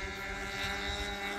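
A twin-engine RC model airplane, the SS90 twin, drones at half throttle with a steady, buzzing engine tone carrying fine tonal harmonics, sustained and even throughout without any voices.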